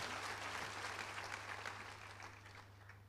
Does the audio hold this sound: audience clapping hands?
yes